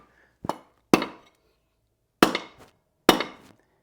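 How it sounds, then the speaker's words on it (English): An axe head, a True Temper Flint Edge, is driven onto its handle by striking against concrete, giving four sharp, hard knocks with short ringing decays, two close together, a pause, then two more. "I'm gonna put it down on the concrete here and we're gonna drive it in."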